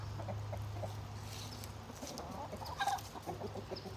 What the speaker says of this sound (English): got our roosters over here. Four roosters.